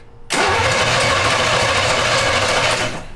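A 1971 Jaguar fitted with a small-block Chevy V8 cranks and fires up after sitting abandoned for years, then settles into a loud, steady, rough running roar that holds close and strong until it eases off at the end.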